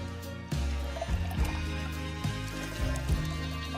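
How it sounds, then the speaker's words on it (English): Water is poured into a container while mixing a limeade beer tequila drink, a continuous liquid fill with faint trickling and splashing, accompanied by a few soft knocks and taps nearby. "Next, add water."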